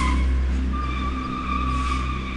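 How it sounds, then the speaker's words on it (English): Cars braking hard on a road near an approaching tornado, tires squealing in a steady, loud screech with a rumbling low engine and road roar underneath, no voices. "Can you hear them slamming on their brakes?"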